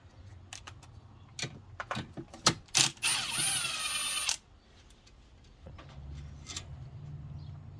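Removing the 10 mm main positive terminal nut from a Toyota alternator: a run of sharp metallic clicks and taps, then about a second of loud, rasping mechanical whirring, followed by a few lighter ticks close by.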